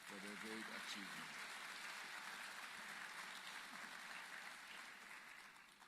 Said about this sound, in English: we should give those learners a good round of applause for their great achievement